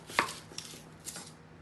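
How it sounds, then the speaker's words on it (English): A knife roughly chops an onion on a board, giving a couple of quiet, scattered cuts over a faint background hiss; soft and close, no talking. "peel and rough chop our onion"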